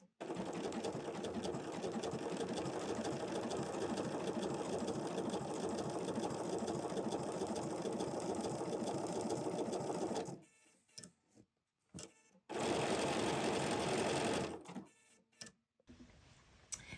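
A sewing machine runs a feather stitch on crazy patchwork, humming steadily for about ten seconds, then stopping and restarting in short bursts.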